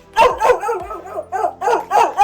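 A dog at a house barks repeatedly in close, loud bursts, about seven sharp barks in a quick irregular rhythm with short yips between, with no voices.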